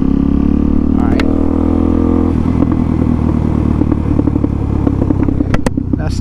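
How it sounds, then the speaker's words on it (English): A motorcycle engine runs loud and close, dropping to a choppy, uneven idle with sharp popping bursts near the end. "that's the engine pop."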